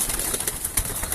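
Pigeons in a fancier's loft give soft, rhythmic cooing with a few faint wing rustles, close and moderately loud, with no voices over them.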